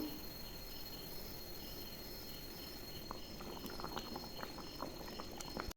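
Fish curry gravy with coconut milk bubbles at a rolling boil in a pot, a dense, steady burble of popping bubbles heard close up, with faint higher clicks late on and no voices.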